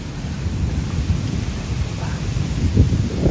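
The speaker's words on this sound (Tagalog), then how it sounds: "Ang lakas talaga ng ulan. Tapos kumukulog." Heavy rain pours steadily with low rumbling thunder underneath, a dense, constant wash of noise close by.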